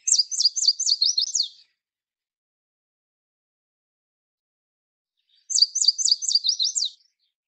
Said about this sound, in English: his call sounds like he's saying, sweet, sweet, sweet, I'm so sweet